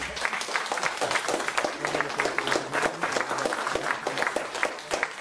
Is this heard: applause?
yes